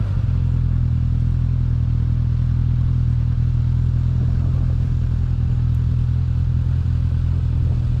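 A vehicle driving around the sand trails of Sand Hollow, Utah, a steady loud low engine drone with rattling clatter underneath, continuous and close, no voices.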